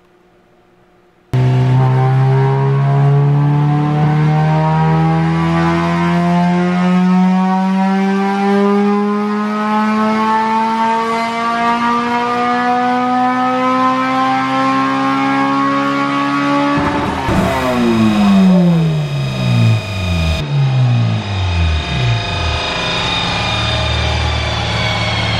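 A stock Honda K-series engine fitted with a 55mm intake restrictor revs at full throttle, its loud raspy howl climbing steadily in pitch for about fifteen seconds before shifting and rising again, close and continuous with no talk.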